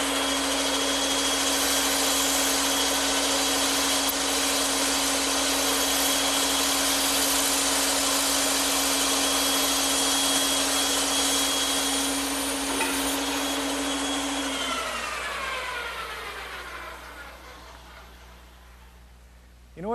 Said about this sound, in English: take it over to the bandsaw, and cut out the curved portions using a 1/4 inch blade set up in the saw